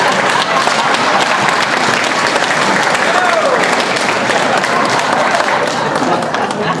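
A town hall audience gives a steady round of applause for a group of filmmakers, dense clapping throughout with voices mixed in underneath.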